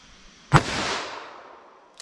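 A single .44 Magnum round fires from a 4 1/4-inch Smith & Wesson Model 69 revolver, a sharp sudden crack followed by a lingering outdoor echo that fades, with a faint click near the end.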